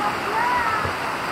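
Water rushes steadily at Bolinao Falls in the Philippines, a constant close roar of falling and splashing water, with faint voices mixed in.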